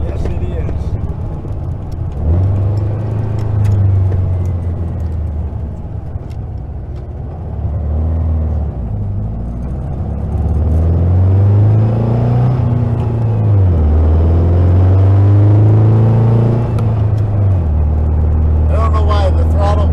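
A 1956 VW Bug running on the road with its swapped engine, a loud close rumble whose pitch climbs and falls through gear changes as it drives along.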